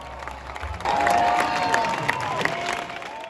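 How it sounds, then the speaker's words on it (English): A crowd in a host city's arena erupts in loud, sustained cheering and applause at a competition, with whistles and shouts rising above the broadband roar. "the crowd erupted in cheers"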